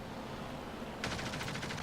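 Rapid aircraft machine-gun fire in the World of Warplanes video game, from an F2A1 fighter, comes in as a quick crackling burst partway through after a quiet hum, fairly faint.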